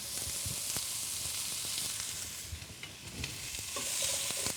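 Turkey breasts searing in a pan give a close, steady sizzle with scattered pops and crackles and a few clinks, fairly quiet, with no talk.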